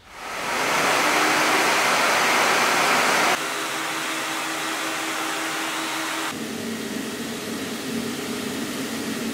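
Workshop vacuum dust extractor running inside a whispering box, a steady loud broadband rush that drops in level in two distinct steps as the setup changes, with no talking.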